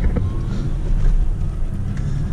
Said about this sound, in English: But as you can see, vehicle starts right up